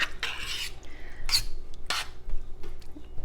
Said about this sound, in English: So let's mix this all up.